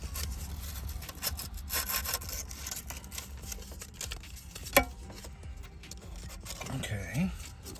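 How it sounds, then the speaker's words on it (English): Copper surface being sanded by hand with 320 grit sandpaper, quiet rapid back-and-forth rubbing strokes, close up, with a sharp click partway through. "I'm just taking some sandpaper 320, and they say to rub it on there just until the copper begins to show"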